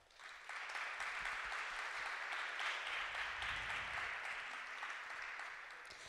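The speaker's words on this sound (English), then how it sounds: "So I would like to do a great applause to them" Conference attendees applaud the organisers at an artistic talk, a steady crowd clapping that swells after a quiet start and holds at moderate distance before tapering slightly.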